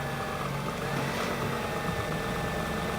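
A van engine idles in a steady, loud rumble with a slight shift in tone partway through as it is shifted from park into reverse, suspected bad motor or transmission mount, no voices.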